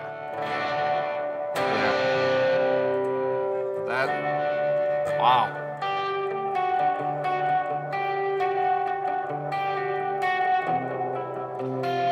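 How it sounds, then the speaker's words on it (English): An EMT 140 plate reverb lets bright tones ring into a dense, shimmering tail that hangs under each new note, loud and wet, while a voice briefly remarks over it. "EMT 140 plate reverb."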